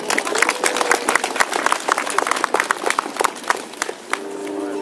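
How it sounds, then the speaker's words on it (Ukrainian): Audience applause greets a singer at a memorial evening for a musician in Berdychiv, with scattered, uneven clapping that rises and falls over a few seconds before settling into a quieter hum. "Давайте зустрінемо його оплесками."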